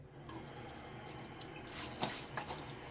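Water added to a boar-bristle shaving brush and lather while wet shaving with a Nacet blade, quiet trickling and a few soft drips, faint and close with no voices.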